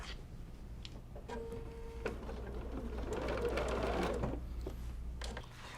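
Sewing machine stitching binding onto a table runner at a mitered corner, starting with a few faint ticks and then running in a steady close whir for several seconds before stopping.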